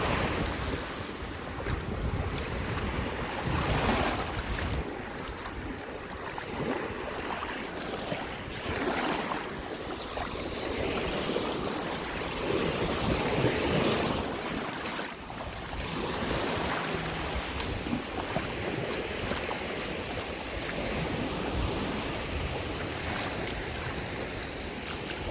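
Ferry crossing open water to Shell Key Island, Florida, with steady wind buffeting the microphone and continuous wave wash against the hull, a constant broad rushing roar throughout with no talk.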